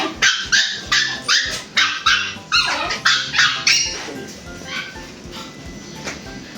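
Two-month-old Pomeranian puppies bark in a rapid series of sharp, high yips close by, about a dozen in quick rhythm before they trail off into softer whimpers.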